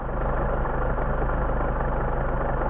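A Mercedes 190SL engine on Solex carburetors idles steadily at around 1,000 rpm, a continuous low, even rumble close by with a faint vibration and no voices.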